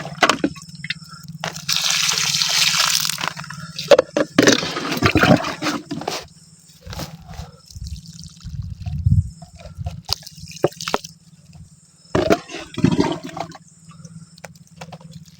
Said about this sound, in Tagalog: Ito natin ibubuhos sa taas ng puno.